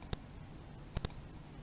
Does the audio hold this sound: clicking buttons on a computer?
yes